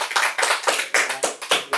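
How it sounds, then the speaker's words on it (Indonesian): Applause for two guest speakers at a talk on Umayyad and Abbasid era history, heard as a short burst of uneven claps from a small group, close and fairly loud, with no talking. "Oke, tepuk tangan buat dua narasumber kita ini."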